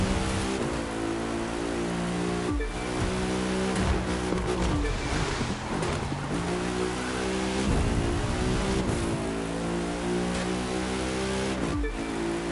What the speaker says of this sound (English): Listen to that growly engine. I just love this engine.